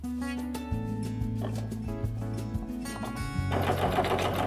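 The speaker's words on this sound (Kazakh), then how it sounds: "Қазір мына жерін тағы бір рет тігіп аламыз." A sewing machine stitches patchwork quilt pieces in steady bursts of rapid mechanical clatter, running continuously and growing denser toward the end, close and clear with no talking.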